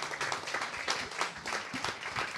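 An audience at an evening talk claps warmly, a soft, fairly distant wash of many hands with scattered louder claps, continuing without pause.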